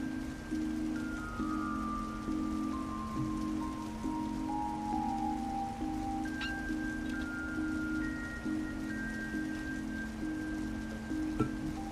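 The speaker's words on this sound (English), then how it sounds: "You know, I love the sound of rain." Video game rain, from The Legend of Heroes: Trails through Daybreak, falls in a steady even patter over a soft background of game music, with no talk.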